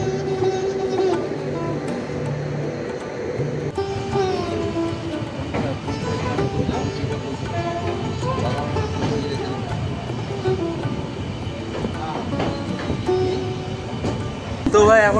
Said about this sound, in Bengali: ট্রেন ছেড়ে দিল মালদা টাউন স্টেশন।